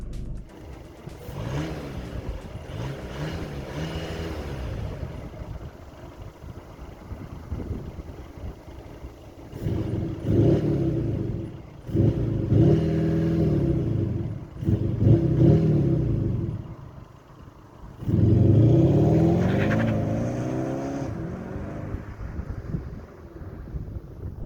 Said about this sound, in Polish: No i słyszycie, ciekawe sobie burczy ten samochód, tak burczy i furczy tutaj z tyłu